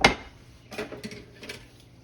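A cooking pan is handled and scraped while a roast duck and cornbread dressing meal is prepared: one sharp metallic clank, then a few lighter scrapes and knocks close by, without talk.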